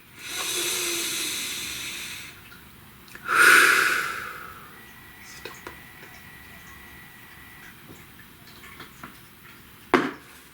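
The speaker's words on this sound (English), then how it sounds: "Please take a nice deep breath." One deep breath comes in and out quite close, between soft faint ticks and a short hiss later on.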